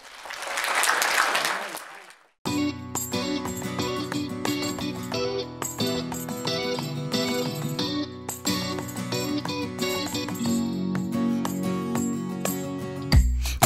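Audience applause for a performer at a Romani music show, a short burst of loud clapping and crowd noise that cuts off and gives way to loud band music.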